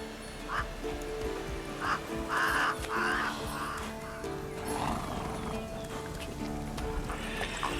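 Roach, a horse in the video game The Witcher 3, whinnies in several short bursts while hooves clip-clop underneath, set against a busy ambient game soundscape.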